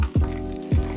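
Cajun-seasoned fish sizzles loudly in hot frying oil, with two sharp bursts of splatter as pieces are flipped over in the pan.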